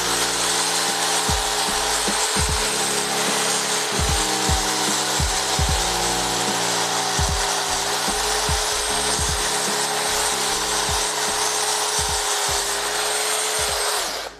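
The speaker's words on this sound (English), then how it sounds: "So the chainsaw is one of an ice sculptor's best friends." A chainsaw carves a large ice block into a sculpture, its steady high-pitched engine whine running continuously while rhythmic low grinding and scraping strokes bite into the ice, close and loud.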